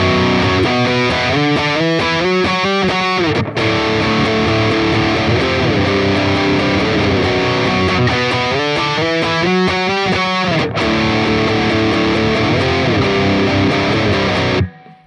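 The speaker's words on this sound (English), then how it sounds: "in the second half we're going to add in this little climbing octave riff" Distorted electric guitar plays the climbing octave riff, rising note patterns over driving power chords, loud and continuous for the whole stretch, then stopping sharply at the end, with nobody speaking.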